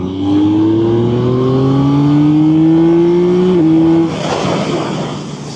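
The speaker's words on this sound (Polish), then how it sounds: "jest słyszany ten dźwięk, jak on się wkręca na obroty, jak się przepustnica otwiera" A Yamaha MT-09 SP naked sport motorcycle revs loud and close as the throttle opens. The engine note climbs steadily for about four seconds, then drops back to a rougher idle.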